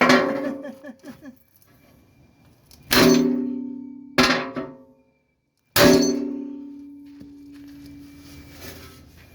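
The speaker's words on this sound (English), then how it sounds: "So we gotta try to get a good whack right here without hitting the top." Heavy blows strike a kinked steel front bumper on a full-size truck, three loud metallic clangs spaced a second or two apart, each ringing out and decaying, with a few lighter taps before them.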